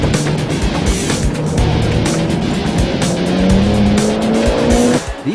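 A Mitsubishi Evo X FQ-400 runs a timed slalom from a standing start, its engine revving loud and close through rising gear pulls while the tires squeal and skid repeatedly in short bursts.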